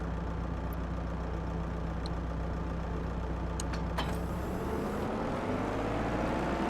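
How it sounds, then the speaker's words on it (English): Tractor engine idling in the Farming Simulator 22 game, a steady low hum that rises in pitch as it revs near the end, with faint clicks over the drone. "Not the biggest fan of the sound on these tractors either."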